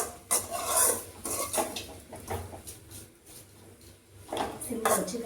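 A spiced masala mixture is sautéed and stirred in a pan, with repeated scraping and clattering strokes of a utensil against the metal in irregular bursts, heard up close while a voice talks over it.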